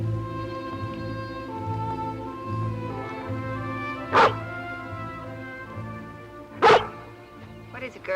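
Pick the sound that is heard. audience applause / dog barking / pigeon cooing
dog barking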